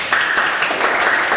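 Dense, continuous applause from a group cheering children in a mental math class, close and loud with no pauses.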